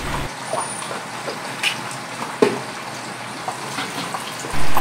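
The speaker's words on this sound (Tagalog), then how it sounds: "kapag nakikita na po natin na hindi na ganun ka lakas ang tilamsik ng ating mantika" Pork belly for lechon kawali deep frying in hot oil, a dense, loud, steady sizzle and crackle with small pops spread throughout, heard alone without talk.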